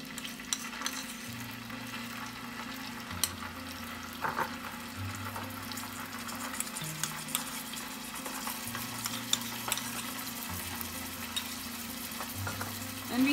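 Ginger paste and garlic paste sautéing in a pan for methi paneer bhurji, a steady low sizzle with occasional stirring scrapes running throughout, under a faint background hum, with no talk.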